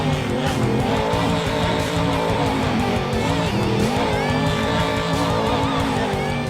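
A monster truck named Lone Ranger makes its run in the Rigs of Rods simulator, its engine roaring steadily and loudly throughout with shifting pitch and tire squeal mixed in.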